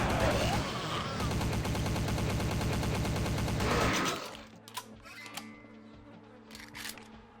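A Patriot gun firing in Vampire: The Masquerade – Bloodlines, with a loud, dense, rapid automatic stream of shots for about four seconds, then sudden stillness with only a few faint scattered clicks and thuds.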